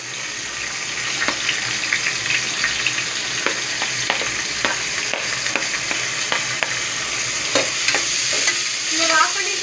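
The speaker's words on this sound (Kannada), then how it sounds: "ಇವಾಗ ಈರುಳ್ಳಿ ಮತ್ತು ಹಸಿಮೆಣಸಿನಕಾಯಿನ ಹಾಕೊಳ್ಳೋಣ ಪ್ಯಾನ್ಗೆ" Onion and green chilli sizzle in hot oil in a pan, a steady close frying hiss with scattered crackles and light stirring scrapes throughout.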